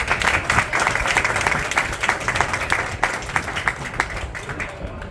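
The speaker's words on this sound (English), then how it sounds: "I think we need to just give her a round of applause for that" Audience applause for a retiring librarian at her school retirement party, a dense steady patter of many hands clapping for the full stretch, fairly close and continuous with no talk over it.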